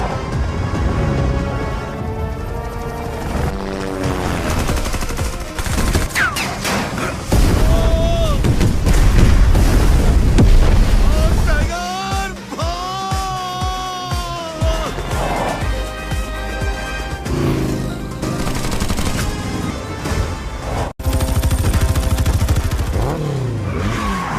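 Gunfire and heavy booms from a shootout in the Indian action film Tiger (Pathaan), with a military chase, dense bursts of impacts under dramatic music and some voices, loud throughout.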